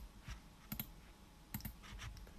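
A computer mouse clicks as screensavers are installed in Windows 7, a few quiet, sharp clicks coming in close pairs about a second apart with no voice.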